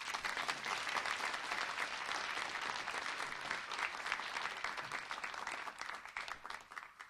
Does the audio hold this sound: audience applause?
yes